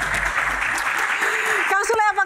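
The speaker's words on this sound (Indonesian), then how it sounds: "Tepuk tangan lagi dong." Studio audience applause on an Indonesian television talk show, a dense steady wash of clapping that fills most of the moment before a voice starts speaking near the end.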